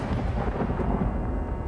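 Low, rolling thunder rumbling through a powerful storm, a short, dense growl held at an even level with no voices.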